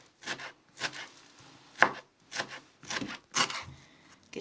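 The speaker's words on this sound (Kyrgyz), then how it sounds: "Эми укропту кесип алабыз мындай." A knife chops fresh dill on a board in slow, evenly spaced strokes, each a crisp, close cut with a brief rustle, with quiet pauses between.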